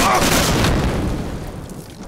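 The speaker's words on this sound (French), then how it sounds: "Y'a des grenades!" A grenade blast in the shooter game Medal of Honor: Allied Assault gives a loud, close boom at the start that decays into a rumbling tail over about two seconds.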